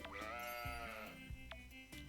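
A sheep in the farming game Story of Seasons bleats in a few wavering, nasal calls, close and clear against quiet background.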